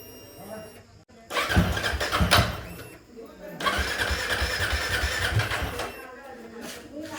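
Motorcycle cold start with a little throttle after the self-starter failed twice: a loud engine catches and revs, drops briefly, then settles into a steady rough running note, with speech mixed in.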